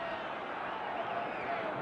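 Boxing crowd cheering and roaring at an Oscar Bonavena versus Muhammad Ali fight, a steady broad wash of arena noise filling the space continuously under commentary.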